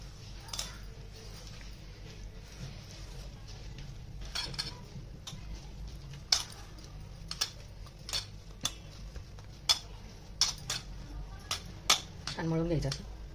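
Mashed potato mixture with cumin and green chilli being stirred in a bowl, a run of soft scrapes and sharp utensil clicks against the bowl at an irregular rhythm, close by, over a low steady background hum.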